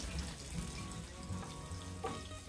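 Chopped onions fry in a pan of oil with cinnamon, cardamom and mace as the base for mung dal pulao, giving a steady, close hiss and sizzle that runs unbroken with no voices.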